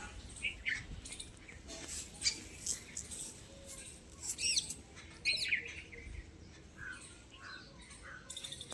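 Small birds chirp in short, scattered bursts around a sparrow feeder in the morning, some calls close and others farther off, over a faint steady background with no one speaking.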